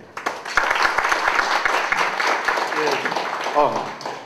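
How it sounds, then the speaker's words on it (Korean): An audience breaks into applause to welcome a guest lecturer at an angel-investment talk, opening with a few sharp distinct claps that swell into sustained clapping as a voice speaks over the end. "여러분, 열렬한 환영의 박수로 환영해 주십시오"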